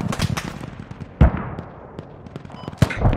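Mortar fire in a combat video game, with several sharp thumping launches and bangs at uneven intervals, two especially loud and close, over a quieter rumbling background.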